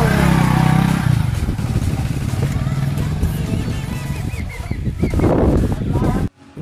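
A motorbike ridden out to a shop makes a steady, close engine drone mixed with wind rumble for several seconds before cutting off abruptly near the end.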